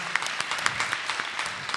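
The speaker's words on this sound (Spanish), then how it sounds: "un aplauso para mis viejos" An audience at a rock session claps for the musician's parents, a short burst of scattered applause at moderate distance.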